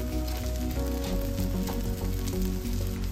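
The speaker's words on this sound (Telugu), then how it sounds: "ఇప్పుడు లో ఫ్లేమ్లో ఫ్రై చేసుకోవాలండి దోశని." A rava dosa fries on low flame in a pan, a steady close sizzle with fine crackling and popping and no talk over it.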